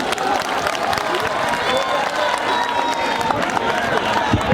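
Loud, dense applause with cheering and whoops from a large crowd at an outdoor stage show, sustained and continuous throughout.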